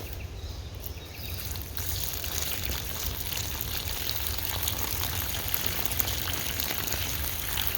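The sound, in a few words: watering a plant with water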